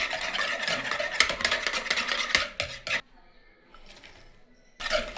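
Brown sugar and eggs beaten for fudgy chocolate brownie batter, a quick rhythmic scraping and clinking of a utensil against a bowl, pausing for a couple of seconds before starting again.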